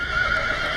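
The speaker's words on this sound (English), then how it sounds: "Molly, his therapy horse for the past 8 years" A therapy horse neighs in a single drawn-out whinny, close and fairly loud, with a faint background murmur and no speech.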